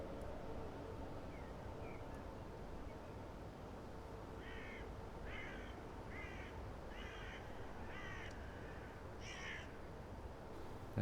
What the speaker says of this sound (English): That sounds like magpies to me.